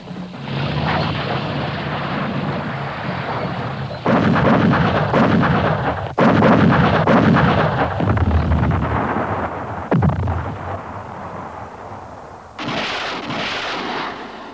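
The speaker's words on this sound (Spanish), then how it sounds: "La barrera de artillería inicial fue suficiente para acabar con la resistencia." A Vietnam War artillery barrage: heavy, booming blasts and long rumbling roars in several loud waves, close and overwhelming, with no speech.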